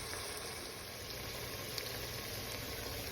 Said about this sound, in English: Okay, so we got our meat in there browning.